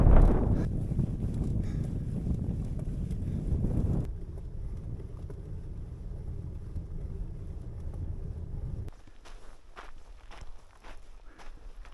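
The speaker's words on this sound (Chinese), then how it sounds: "最主要是它这个风噪，这耳朵上面就跟装了喷气式飞机的发动机一样" Strong wind roars into the microphone while cycling in a remote, windswept high-altitude area. A loud, steady broadband rumble is heavy at first, then eases partway through and drops further near the end.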